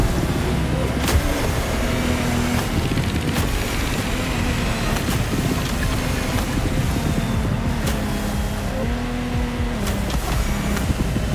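A sailboat races fast through ocean swell in The Crew Motorfest, giving a steady, loud rush of water and wind against the hull over a low droning hum, with occasional dull thumps as it meets waves.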